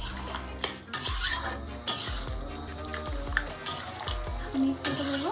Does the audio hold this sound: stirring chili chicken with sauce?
yes